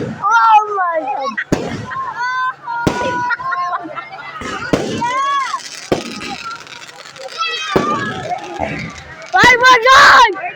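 Fireworks and firecrackers go off on All Souls Day, sharp bangs and pops scattered through the clip amid excited shouting and crowd chatter nearby, with a louder burst near the end.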